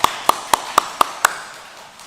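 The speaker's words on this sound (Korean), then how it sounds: "우리 하나님께 영광의 박수 한번 올려드릴까요?" Six evenly spaced hand claps from a Sunday church service, crisp and fairly near, each ringing briefly in the room before fading to quiet; a faint voice lingers underneath.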